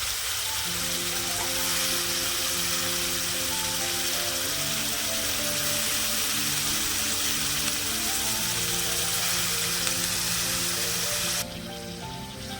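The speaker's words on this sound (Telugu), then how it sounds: "సిమ్లోనే ఉడకనిస్తున్నానండి, మధ్యలో ఒకసారికి కలిపిస్తున్నాం." A pot of broad bean (chikkudukaya) curry simmers on a low flame, giving a steady soft sizzle and bubbling hiss that runs unbroken for several seconds, then drops away sharply near the end.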